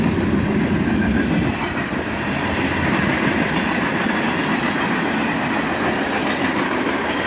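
A southbound manifest freight train rolls past close by, a loud, steady rumble of wagons with clickety-clack wheel rhythm running the whole time, no voices.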